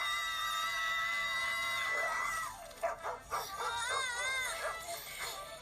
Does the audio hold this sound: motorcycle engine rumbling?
no